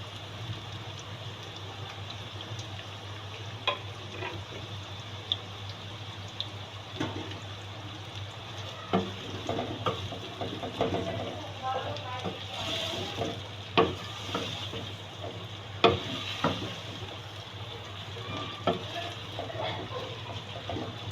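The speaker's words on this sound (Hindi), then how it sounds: "प्याज डाल के ब्राउन करते हैं।" Onions browning in hot oil for mutton paya curry, a soft steady sizzle with scattered crackles and pops throughout, no voices.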